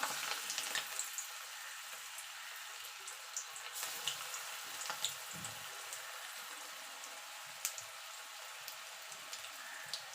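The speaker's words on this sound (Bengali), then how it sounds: "এবার আমি বড়াগুলো ভেজে নেবো" Drumstick flower fritters fry in hot white oil, giving a steady, fairly soft sizzling hiss with small scattered pops and crackles throughout, close by and with no talking.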